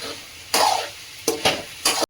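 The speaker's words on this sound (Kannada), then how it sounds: "ಈಗ ಚಿಕನ್ ಬೇಯ್ತಾ ಐತೆ." Chicken ghee roast cooking in a pan, with a low background sizzle broken by a few bursts of stirring and scraping, close by and with no voices.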